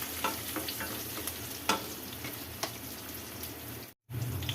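Finely chopped garlic sizzles softly in hot oil, a steady crackling fry with occasional sharper pops, close up and fairly quiet.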